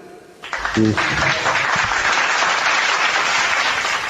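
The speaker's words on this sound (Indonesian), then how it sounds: "tepuk tangan dulu" Audience applause at a religious debate gathering, starting abruptly after a brief spoken word and continuing as a loud, sustained wash of clapping.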